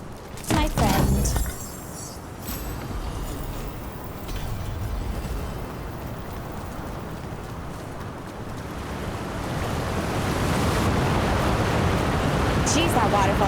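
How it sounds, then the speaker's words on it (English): A loud waterfall in Dragon Age: The Veilguard, a broad continuous rushing roar that swells louder toward the end, with a voice talking over it early on. "Jeez, that waterfall is loud."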